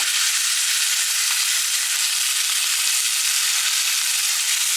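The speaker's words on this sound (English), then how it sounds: "Time to put in the steaks. Season side down." Scotch fillet steaks laid seasoned side down into a hot, smoking pan sizzle loudly and steadily, a dense, even hiss holding close and unbroken throughout.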